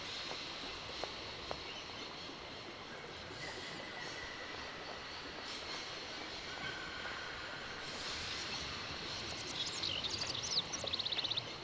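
A moving train in a video game rumbles continuously, its wheels squealing now and then with faint clicking, the sound steady and somewhat distant.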